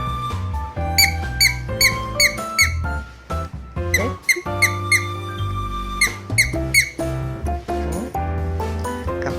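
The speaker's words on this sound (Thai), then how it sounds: "มันมีเสียงด้วยนะ ช้างน้อยอ่ะ" A squeaky baby toy elephant gives repeated sharp squeaks in quick rhythmic bursts, close by and fairly loud, over a steady tonal background.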